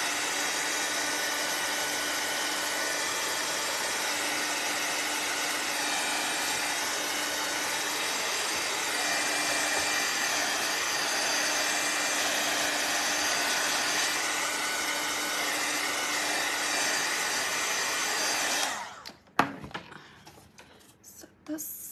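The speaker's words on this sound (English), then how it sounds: "feel like it's taking forever to dry, even with the dryer." A blow dryer drying paint on a wooden Fourth of July porch leaner, a steady loud broadband whoosh that runs unbroken for most of the time, then cuts off abruptly near the end, leaving quieter handling noises.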